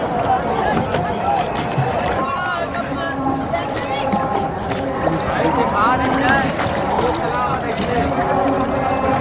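Steady rumble and churn of a boat moving over water at the crowded Kumbh Mela festival in India, with splashing and voices talking over the drone throughout.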